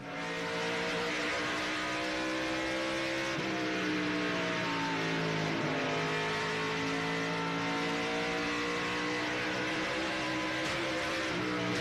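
A loud, continuous race truck engine roar heard from an onboard camera, rising and falling in pitch as the truck accelerates and shifts, with no talking.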